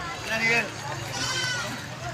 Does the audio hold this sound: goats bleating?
yes